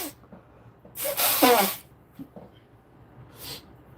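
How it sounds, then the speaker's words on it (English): A single sharp human sneeze bursts out close and loud, followed by faint breathing and a short snort-like sniff afterward. "Pardon me while I sneeze this out."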